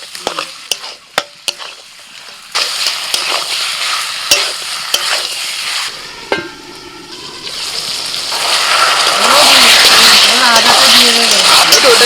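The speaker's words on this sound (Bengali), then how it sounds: "এবার দিয়ে দিচ্ছি কষাতে" Marinated duck meat is sautéed in a pan: scattered clanks and scrapes at first, then a loud, rising sizzle that swells into a heavy, sustained hiss, with voices talking faintly beneath it.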